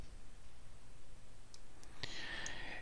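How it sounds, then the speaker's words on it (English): A few faint computer mouse clicks while setting folder permissions, sparse single taps near the end over a low steady background hum. "I need to click advanced."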